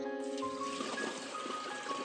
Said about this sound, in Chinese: 沉淀了5个小时，水已明显变清，现在开始倒水取粉